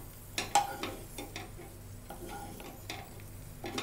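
Raisins fry in ghee in a pan for rava ladoo, giving a faint, soft sizzle with a few light ticks and stirring scrapes scattered throughout.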